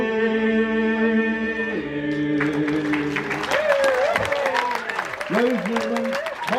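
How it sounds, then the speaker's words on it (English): A live audience at a sea shanty festival in Yarmouth claps after a song, the steady applause rising amid fading sung and instrumental tones, with a voice speaking over it. "Big round of applause."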